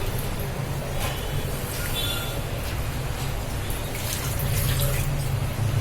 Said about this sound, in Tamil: நல்லா கசக்கி 2 தடவை நம்ம அலசிக்கணும்